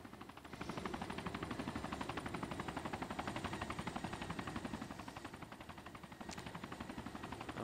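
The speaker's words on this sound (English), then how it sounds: "Oh, here comes a chopper." A helicopter approaches in the video game Arma 2, its rotor chop a fast, steady pulsing thump that holds a constant loud level throughout, with no voices over it.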